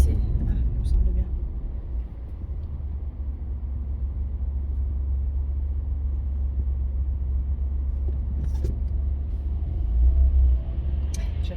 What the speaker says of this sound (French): J'avais un bus juste à côté